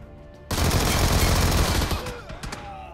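A submachine gun fires a sustained burst in the mobile shooter BGMI, loud and rapid for about a second and a half before tapering into a few scattered shots and echoes.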